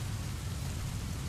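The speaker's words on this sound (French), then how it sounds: "ça va être de la pluie, un bruit de pluie en fond" Steady rain recording from a relaxation website, a dense even hiss with a low rumbling bed, constant and moderately quiet throughout with no voices.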